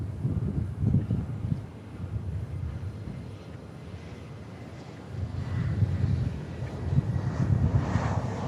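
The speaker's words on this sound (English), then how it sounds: "Another A321neo." An Airbus A321neo airliner passes by at DFW, a moderate jet rumble with wind buffeting the microphone that swells, eases off in the middle, then rises again.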